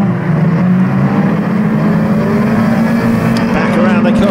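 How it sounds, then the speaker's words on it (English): 2 litre banger racing cars at a raceway during the Michael Bailey Memorial race, a loud continuous engine drone and roar from several cars circulating, with a commentator talking over the noise. "178 Bowman takes a very important symbolic victory in the Michael Bailey Memorial for the 2 litre bangers this year"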